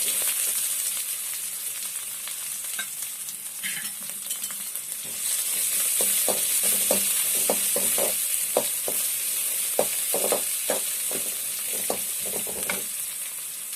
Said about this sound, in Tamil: வெங்காயம் வதங்கிறது